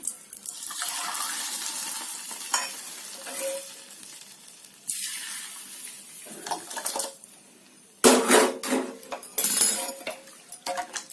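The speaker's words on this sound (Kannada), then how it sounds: "ಈಗ ಸ್ವಲ್ಪ ಒಗ್ಗರಣೆ ಕೂಡ ಹಾಕೊಳ್ತಿದ್ದೀನಿ" Hot oil sizzling in bursts as mustard seeds, cumin, asafoetida and curry leaves hit the pan for dal sambar tempering, crackling loudly then fading, with occasional clinks of a utensil against metal.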